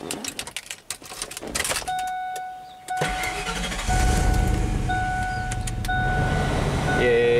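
A 1997 Ford F150 with major electrical faults cranks with a short starter whine and then catches, the engine settling into a steady, close idle as chimes and dash warning tones sound over it.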